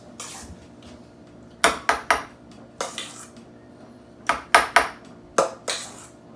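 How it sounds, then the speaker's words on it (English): A spoon packing dip into a bowl in a home kitchen, sharp clinks and scrapes of metal on the dish in irregular bursts, close and fairly loud, with no talking. "Now I'm going to use a spoon to pack this."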